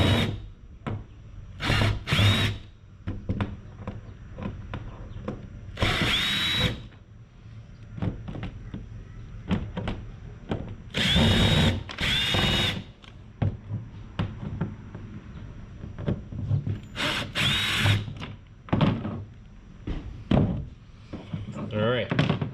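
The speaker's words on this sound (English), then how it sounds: "All right, got my drill here." A power drill backing screws out of a deck plate on a Vibe Shearwater 125 kayak: several short, loud whirring bursts separated by quieter handling noise, with occasional talk.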